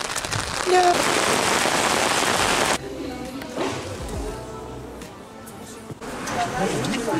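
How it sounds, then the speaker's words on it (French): Heavy rain hisses steadily nearby, easing briefly in the middle before the dense downpour returns, with a few faint knocks underneath. "il pleut. beaucoup."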